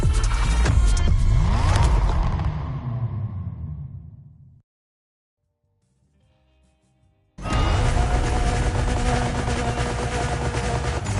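A Mitsubishi Evo 9 engine in The Crew Motorfest revs loudly up and falls away, cutting to near silence for a few seconds before the engine roars back at full volume, with no talk over it.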